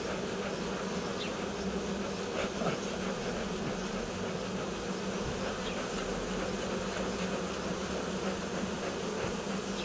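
A swarm of bees settled on the ground gives off a dense, continuous buzzing hum, steady and close, with no voices.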